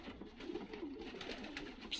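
A pigeon coos softly at close range in a couple of low, rolling calls, with quiet surroundings and no other sounds.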